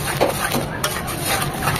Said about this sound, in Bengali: এখানে ধৈর্য নিয়ে মশলাটাকে কষাতে হবে, একটু সময় নিয়ে।